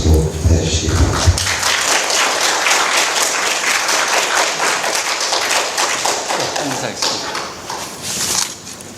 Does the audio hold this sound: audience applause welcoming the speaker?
yes